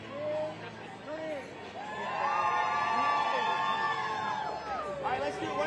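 A large crowd roars into a big sustained cheer on cue, with whoops and shouting rising and holding loud for several seconds amid general hubbub.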